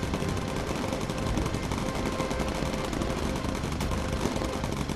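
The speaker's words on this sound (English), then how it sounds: "we're going to go ahead and focus fire the 2 back gunners because we got a good amount of fighters coming in" Rapid machine gun fire from the bomber's gunners in the video game Bomber Crew, a dense, continuous rattle of shots that stays loud and steady throughout with no pauses.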